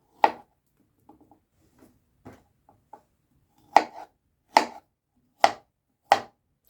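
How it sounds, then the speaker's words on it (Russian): A knife chops bananas into pieces on a board, some soft light taps followed by four sharp, evenly spaced chops, close and clear with no talking. "Бананы нарезаем вот такими вот кусочками."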